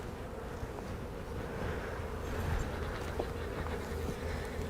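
Honeybees hum and buzz around an open hive frame in a beekeeping inspection: a continuous, close, droning swarm buzz with small swells in loudness and no voices.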